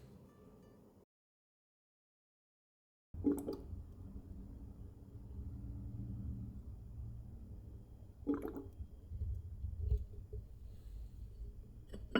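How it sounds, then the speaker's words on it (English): Wet kvass mash being squeezed by hand to press out moisture, giving soft squishing and dripping sounds with a short silent gap early on and a few louder wet squelches. "I'm going to try and squeeze a little bit more moisture out of this"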